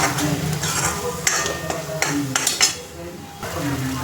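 Masala for a chana bhaji being roasted and stirred in a pan, with a metal spoon repeatedly scraping and clinking against the pan over a soft sizzle, close by, with brief talk in the background.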